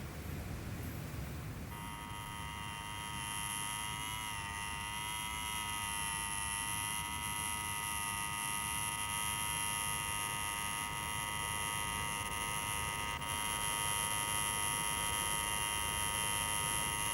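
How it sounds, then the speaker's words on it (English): A buzzer held down drones continuously and loudly at a harsh steady pitch for about fifteen seconds, with no breaks and no talking. "Take your finger off that bleeding buzzer."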